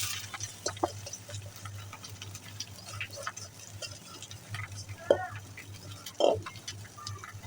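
Pre-boiled mola greens sizzle gently in a hot pan while a utensil stirs and scrapes now and then, over a low steady hum.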